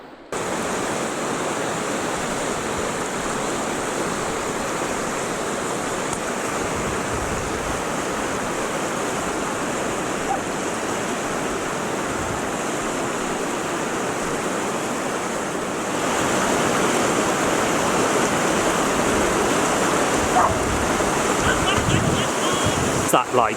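White water rapids on the River Spey in Scotland roar as a continuous, dense rush of water, steady throughout and growing slightly louder partway through.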